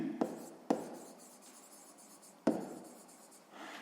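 Pen or pencil writing down a math answer on paper, a few short scratchy strokes with brief pauses between them, close and quiet, no voices.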